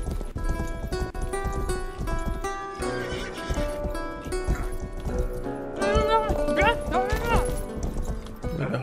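Horse in the PC game Rustler, whinnying loudly with hoof clip-clops amid game music and sound effects, while someone talks over it.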